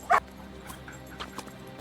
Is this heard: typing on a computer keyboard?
no